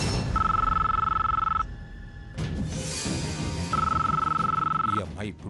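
A telephone rings in two long electronic bursts with a steady, bright trilling tone, separated by a pause where voices and background noise come through.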